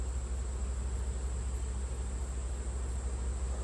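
Honeybees humming around an open hive during an autumn inspection, a low continuous buzz with a steady hiss and a faint high whine, unbroken and without voices.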